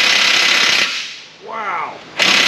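A battery-powered impact tool hammers at a 21 mm frame bolt on a Ford Transit 3.7, with loud, close, rattling bursts that cut out, give a brief whining stall, and then roar back on.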